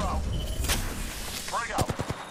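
Gunfire in the video game Apex Legends, a burst of several sharp shots early, then a rapid cluster of loud cracks near the end over continuous battle noise, with a voice briefly speaking.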